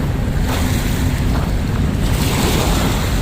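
Waves surge and wash ashore at high tide on Dolomite Beach along Manila Bay, a steady loud roar of surf mixed with wind buffeting the microphone, unbroken throughout.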